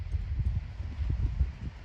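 A horse's hooves clip-clop in a quick, even rhythm as it travels around warming up before cross-country jump schooling, with soft, close, low thuds on ground and no talk.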